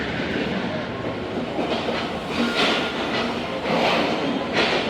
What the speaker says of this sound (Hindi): दोस्तों ट्रेन इंटर हो रही है 6012 AG30 के साथ